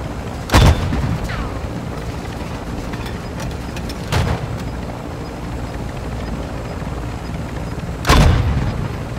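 Gunfire bursts from below strike at a helicopter in Warzone 2.0, three loud sharp blasts spaced several seconds apart over a steady rotor and engine drone.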